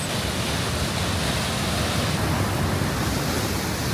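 A steady, dense roar of a waterfall's rushing water in New Zealand fills the whole stretch, unbroken and fairly loud, with no voices.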